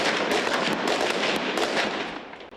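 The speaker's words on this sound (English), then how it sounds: "Police shooting as protesters ran up the hill towards them." Rapid, overlapping bursts of gunfire from police shooting at protesters advancing up a hill, a dense crackle of reports that runs continuously and loudly throughout with no voices.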